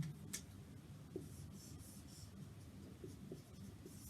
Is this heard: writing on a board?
yes